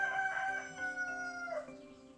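Chickens in a nesting box give a close, drawn-out crowing call with wavering tonal cries, loud and alone for about two seconds.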